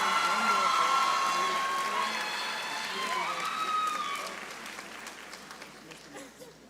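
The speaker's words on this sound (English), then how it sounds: "Let's give a big round of applause to Jade and her family on a job well done." A crowd applauds at the Westfield High School graduation ceremony, with dense, loud clapping and some cheering that gradually fades toward the end.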